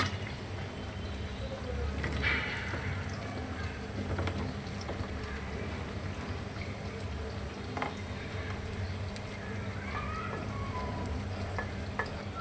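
Onions frying in a pan: a continuous soft sizzle and crackle up close, with occasional faint stirring scrapes, steady and low in level throughout.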